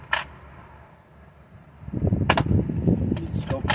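A Nerf Zombie Driller dart blaster fires nearby with a sharp pop, followed by rattling handling noise and a few more clicks and thumps.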